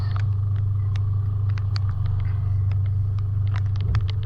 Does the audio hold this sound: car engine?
yes